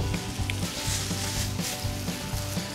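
Coral trout laid onto garlic in a hot pan at a beach barbecue by a creek, giving a steady, close sizzle and fry with faint scraping and stirring underneath, no talk.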